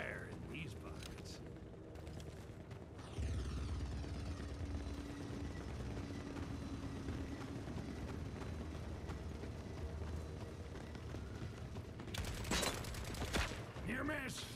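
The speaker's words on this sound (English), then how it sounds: "Near miss, taking fire." Gunfire in the war video game The Forever Winter: sustained bursts of automatic fire and rumbling combat with mechanical whirring, loud and continuous, with a sharper cluster of shots near the end.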